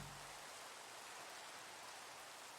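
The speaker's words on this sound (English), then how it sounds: "Oh, now it's raining." Rain falling in the video game Minecraft, a steady, even broadband wash of rainfall that holds at constant loudness throughout with no voices over it.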